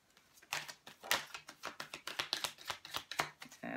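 Tarot cards are shuffled by hand in a rapid run of crisp riffling flicks and slaps, close and clear, with a faint low tap repeating beneath the shuffle.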